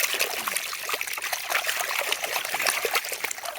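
Water trickles and splashes steadily while a toy water gun is washed, a close, continuous wet dribble with no talk.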